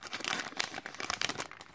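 A small paper leaflet is pulled out of toy packaging, giving a short burst of close crinkling and crumpling paper and plastic that lasts under two seconds.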